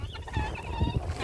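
Hens clucking softly near a homemade chicken coop in late winter, a few short low clucks and murmurs, faint and close.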